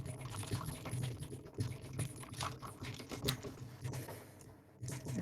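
Computer keyboard typing, a fast patter of key clicks at moderate level against a background hum, with a brief lull near the end.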